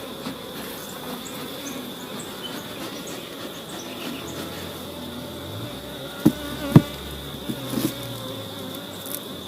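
Honey bees swarm and buzz steadily around an open hive in Jamaica on an overcast day, a dense continuous hum with a few louder close passes near the end.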